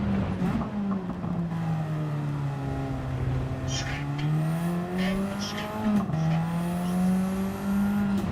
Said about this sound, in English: The Porsche with DRS sounds good, says Wilkie.